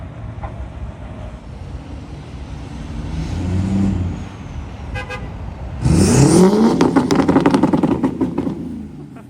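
A Duramax diesel engine in a big pickup truck revs hard up toward its rev limiter, a loud rising roar that swells, dips briefly, then surges to a high sustained scream before easing off.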